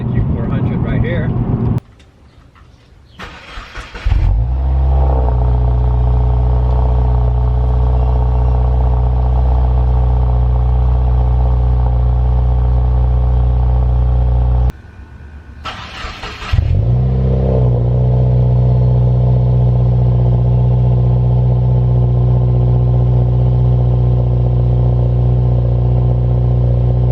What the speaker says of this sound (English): I'll try to throw in the difference in just the startups from the Q300 and the Q400 right here.